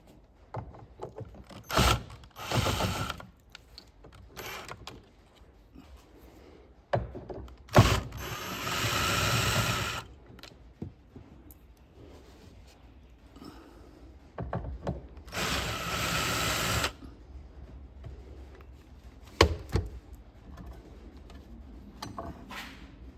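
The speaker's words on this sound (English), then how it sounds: "it looks like there's 3 screws here I have to take out" Screws being taken out of an interior panel on a C3 Corvette, heard as close, intermittent bursts of ratcheting, whirring tool noise separated by quieter handling sounds.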